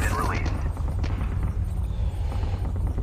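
Gunfire in a Call of Duty Mobile battle royale match crackles in rapid bursts, loud and continuous beneath a player's excited voice.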